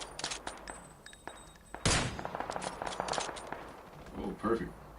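Gunfire in the battle royale game PUBG: rapid bursts and single shots crackle throughout, with one loud close blast in the middle, mixed with a player's excited voice.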